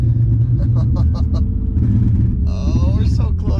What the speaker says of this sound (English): Oh, it's just misfiring bad. I mean, it's breaking up bad.